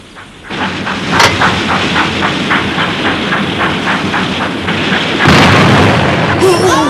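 A cannon fires with a deep boom that rumbles out and rolls on in a long, loud, reverberating blast, followed by a sharp second burst and a voice at the end.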